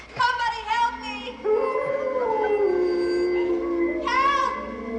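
Dogs howl outside in long, wavering, sustained tones, one after another, loud and close, with a higher yipping burst near the start and end.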